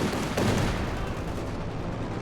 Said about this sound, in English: MG34 firing away against the penal squad